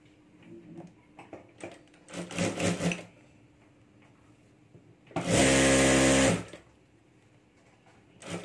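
A sewing machine stitches the seam of a handmade potli bag in short bursts, with one long, loud, steady run in the middle of several briefer passes, and no talking.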